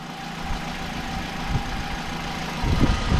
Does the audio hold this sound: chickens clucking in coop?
no